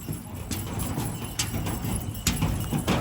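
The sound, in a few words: horse hooves clip-clopping during pony ride to Shiv Khori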